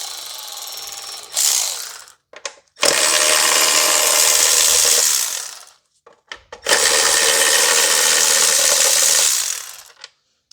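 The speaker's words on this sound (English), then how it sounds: "I'm just using a Milwaukee electronic ratchet just to speed things up." A Milwaukee electric ratchet spins out 10 mm bolts on a 2019 Honda Civic 2.0 K20C2 engine, giving two long loud whirring runs about three seconds each, with short clicks and pauses between them.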